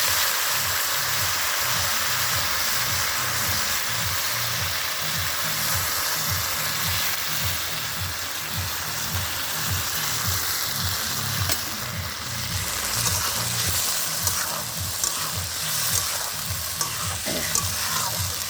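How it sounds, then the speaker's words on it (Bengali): Marinated goat head meat frying in a pan, a loud, steady sizzle with rhythmic low scraping or stirring pulses running throughout, alone with no talk. "এবার মাংস মাখানোটা ঢেলে দিলাম"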